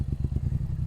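Motorcycle engine running with pulsing throttle revs, a low, throbbing mid-range rumble that surges in quick repeated bursts, close and steady, with no voices.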